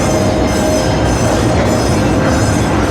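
A train at an amusement park rolls past on rails near a quiet path, a loud, steady rumble of wheels with faint squealing, close by and without speech.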